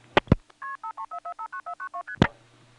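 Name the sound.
telephone multi-frequency signalling tones: key pulse and digits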